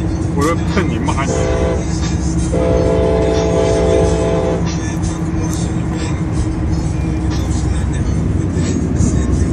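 A train runs close by near the Salton Sea with a loud, continuous rumble, and its horn sounds in two sustained blasts. A car's engine hum lies underneath, and people talk over the noise.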